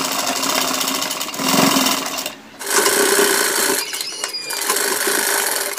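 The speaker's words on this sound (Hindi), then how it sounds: "तो हम बैंड पट्टी को सबसे पहले यहाँ से यहाँ तक पैर की सिलाई लगाएंगे।" A sewing machine runs in fast continuous bursts while stitching the band strip of a kurta collar, loud and close, with one brief pause before the stitching resumes.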